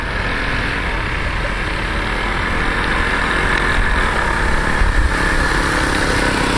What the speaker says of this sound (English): Well, the engines are both still running.